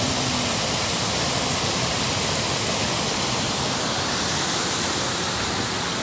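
The Çisil waterfall at Karaoluk in Ordu, a drop of about ten metres, roars steadily as a dense, broadband rush of falling water that stays loud and unbroken throughout.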